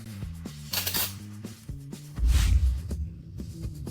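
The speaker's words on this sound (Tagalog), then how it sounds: "Mga kubyertos na ginto. Ang kinang nito, ang pakiramdam nito, at ang tunog nito." Gold cutlery clinks in a series of bright metallic taps and rattles, close and distinct, with a heavier clatter midway and no speech over it.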